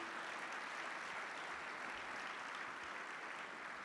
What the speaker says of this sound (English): can you give a round of applause to our servers, please?